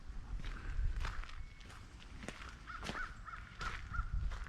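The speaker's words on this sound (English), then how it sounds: "I hear a crow somewhere." Crow calling from somewhere outdoors along a nature path, with a series of harsh caws repeating at moderate distance over soft footsteps and background noise.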